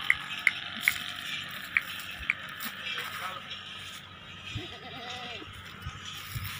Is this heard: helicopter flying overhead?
no